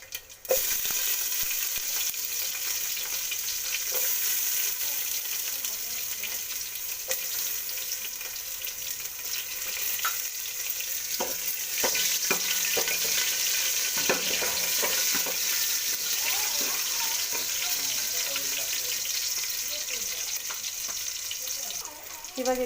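Onion frying in hot oil with mustard seeds and garlic for a dried fish curry, a continuous moderate sizzle with scattered stirring scrapes and spatter over a long stretch, no talking.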